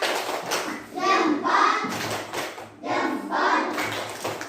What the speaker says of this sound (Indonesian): kasih tepuk tangan dulu untuk yang sudah maju di awal